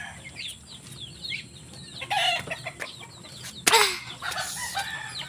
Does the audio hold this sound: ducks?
yes